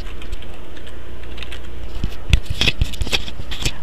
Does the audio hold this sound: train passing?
no